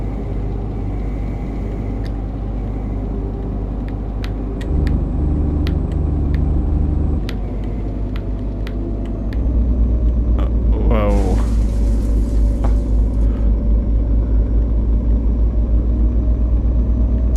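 A truck in On The Road Truck Simulator drives along with a steady, heavy low engine rumble, a creaking mechanical sweep partway through and a deeper, louder drone after; no talking.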